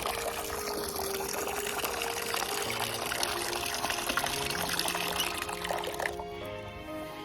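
Water runs from a tap in a steady thin trickle close by, left running in winter to keep it from freezing, a continuous splashing flow that eases slightly near the end.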